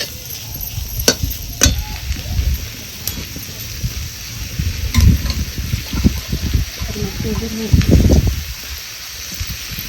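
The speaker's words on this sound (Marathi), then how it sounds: "आता ह्याच्यामध्ये आपल्याला घालायचंय पाणी" Water poured into frying kharda Bombay duck masala, causing bursts of loud close sizzling and bubbling hiss that rise and fall over several seconds, with a voice speaking intermittently.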